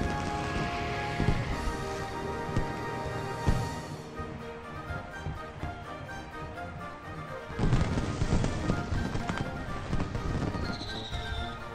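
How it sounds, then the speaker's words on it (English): Fireworks bursting over a carnival in the video game Final Fantasy XV, with booming explosions and crackles layered over steady background music, then a louder cluster of bangs near the end. "Those fireworks were pretty spectacular, huh?"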